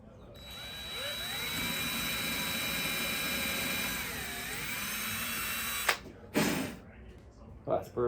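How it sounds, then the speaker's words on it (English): Power drill boring through metal to seat a rivet in a photo booth enclosure hinge, a steady high whine running for about six seconds before stopping, followed by brief clunks and handling noises. "now I'm going to drill down"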